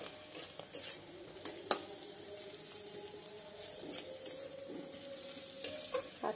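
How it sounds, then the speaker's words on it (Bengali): Onion frying in oil with dried chili, bay leaf and cumin seeds: a steady close sizzle with scraping stirs and a few sharp utensil clinks against the pan, no voices. "শুকনো মরিচ, তেজপাতা আর সাদা জিরে ফোড়ন দিয়ে আমি পেঁয়াজটা ভালো করে ভেজে নিচ্ছি"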